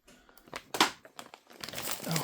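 Crinkling of plain white wrapping paper in the shoe box of Air Jordan 4 Retro OG "Brick by Brick" sneakers, close and fairly soft, several short rustling bursts building to steadier crumpling.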